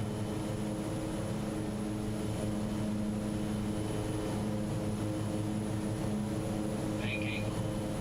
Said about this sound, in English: It's about our takeoff speed now. Away we go, out of Barra.